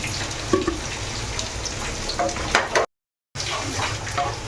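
Potatoes fry in a pan with a steady hiss, broken by occasional clinks and scrapes of stirring, then a short moment of total silence before the sizzling resumes.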